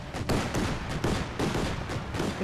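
Continuous battlefield gunfire from Company of Heroes 2, a dense rattling volley of rifle and machine-gun shots poured onto infantry squads, steady and loud throughout with no talk.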